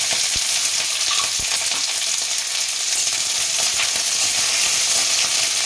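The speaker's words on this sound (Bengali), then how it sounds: "যখনই সয়া সসটা দিয়ে দেবো বাঁধাকপিটা একেবারে মজে যাবে এরপরে দিচ্ছি মটরশুঁটি" Cabbage and peas stir-frying for egg chow mein roar with a loud, continuous close-up sizzle, a dense crackling hiss with faint stirring knocks and no talk.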